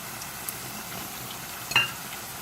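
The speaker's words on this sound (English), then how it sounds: "regular flour tortillas, all cut up, and let them soak up the oil and fry." Cut-up flour tortilla pieces fry in oil for a cinnamon sugar dessert, giving a steady, low-level sizzle with a short, brighter crackle near the end.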